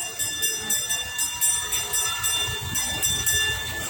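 A small amusement park train ride at a theme park in San Isidro, Nueva Ecija rolls past with a steady rumble and a rhythmic clatter of its wheels, loud and continuous for the whole stretch.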